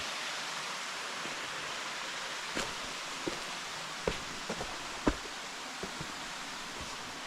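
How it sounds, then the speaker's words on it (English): Constant broadband rushing of a small waterfall fills the scene evenly, with a few faint scattered clicks and rustles close by. "A beautiful little waterfall."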